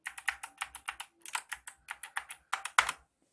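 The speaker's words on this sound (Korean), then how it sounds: "이게 청키라서 이렇게 좋은 소리가 나고요" Someone types on a Kailh blue-switch 104-key mechanical keyboard with LED lighting, giving a close burst of sharp, clicky keystrokes in an uneven rhythm, with a short pause midway before the keystrokes resume.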